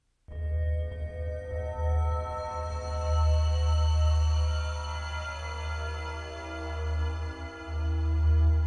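A deep, steady synthesized sine wave bass tone drones continuously at bass frequencies, loud and smooth, with faint higher harmonics shimmering above it and no voices.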